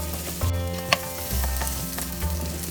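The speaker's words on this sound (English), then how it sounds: "Fry the potato for 2 minutes, then we'll add the onion" Potatoes fry in a pan over medium heat for kanda batata poha, a continuous close sizzle with a few scraping stirs and a low hum underneath, no voices.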